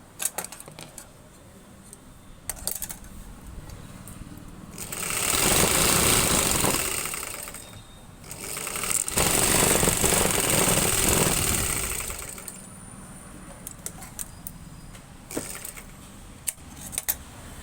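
A sewing machine stitches a folded salwar hem in two bursts of steady whirring, each lasting a few seconds, separated by a short pause, with quiet handling noises before and after.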